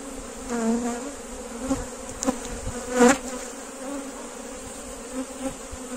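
Honey bees buzz steadily and close by at an apiary hive, a dense continuous hum with individual insects droning louder as they pass.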